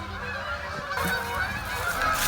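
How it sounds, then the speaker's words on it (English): Several geese honk repeatedly at a moderate distance, their nasal calls overlapping against faint background noise. "You see the geese?"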